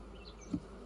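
Honeybees hum around an apiary hive, a low, faint, steady drone with a soft bump midway, with no voices.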